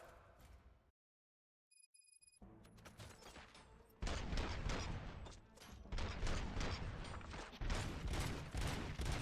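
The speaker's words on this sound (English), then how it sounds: "Gunshots? What's going on?" Gunfire in the RoboCop: Rogue City video game, a dense burst of loud repeated shots and impacts erupting after a brief silence and continuing steadily, with mechanical clatter in the mix.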